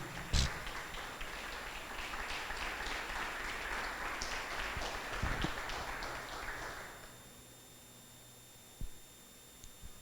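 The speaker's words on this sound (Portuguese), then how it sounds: "se for possível, dê um aplauso ao Senhor Jesus" A church congregation claps together during a worship service, a steady patter of applause for several seconds that then stops abruptly, leaving near silence with a few faint taps.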